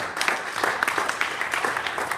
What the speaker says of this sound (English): So a round of applause for our judges.